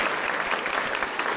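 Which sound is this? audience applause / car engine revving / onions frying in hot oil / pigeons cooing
audience applause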